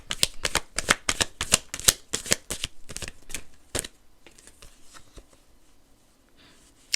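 Tarot cards are shuffled in a brisk run of crisp riffling snaps for several seconds, close and fairly quiet, then a few softer card sounds as the deck settles.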